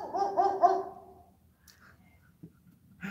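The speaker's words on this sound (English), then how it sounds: "It is a German Shepherd." German Shepherd next door giving a quick burst of three or four loud barks, followed by near silence with a few faint knocks and shuffles.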